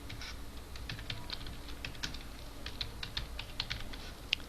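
Someone types a page title on a computer keyboard, a run of light, irregular key clicks at close range, steady and fairly quiet against a low background hum.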